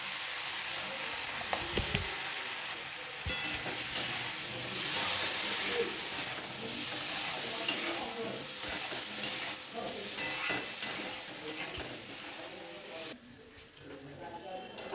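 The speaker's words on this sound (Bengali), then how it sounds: "আলু ভাজা হয়ে গেছে খুব সুন্দরভাবে" Potato pieces frying in oil with salt and turmeric, stirred with repeated scraping strokes against the pan over a steady sizzle, with voices talking underneath at times.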